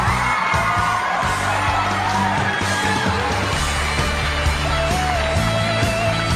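A studio audience at a Liaoning TV confession show cheers and whoops in a lively, sustained burst over steady background music, the crowd noise filling the whole stretch.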